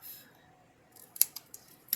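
Scissors snip through paper for a gift box treat holder craft, a few crisp close cuts after a quiet pause, ending in a quick double snip.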